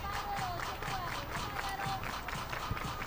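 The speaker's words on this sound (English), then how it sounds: "Everybody clap your hands." A crowd at a professional softball game claps hands in a steady rhythm, a broad wash of many hands at moderate distance, with faint voices mixed in.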